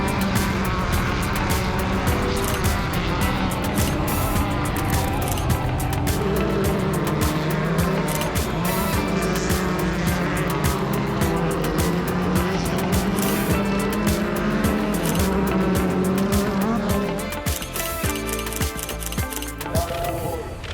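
Pro off-road buggies race at a Championship Offroad ERX event, engines roaring loud and close with revving, whining passes and occasional tire squeal, a continuous mix of cars at varying distance.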